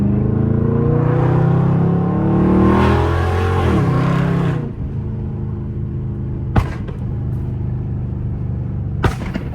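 A Dodge Scat Pack's exhaust roars loudly up close as the engine revs and downshifts, the pitch sweeping for several seconds before dropping to a rumbling idle. Two sharp exhaust pops follow.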